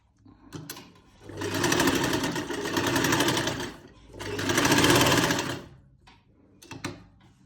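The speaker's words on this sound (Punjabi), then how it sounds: "ਇੱਥੋਂ ਸਿਲਾਈ ਸ਼ੁਰੂ ਕੀਤੀ ਹੈ" Sewing machine stitching a salwar, running in three sustained loud bursts of rapid mechanical whirring separated by short pauses and faint handling clicks, with no talking.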